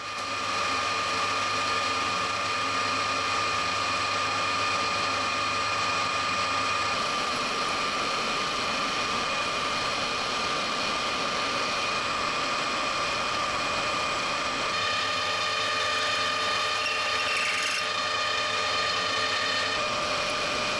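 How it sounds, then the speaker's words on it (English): A machined aluminium casting part for a float lock vice being worked in a workshop, steady mechanical whirring and rasping with a persistent hum that shifts in tone partway through, continuous and moderately loud. "I'll deburr that, and then this goes back on the lathe"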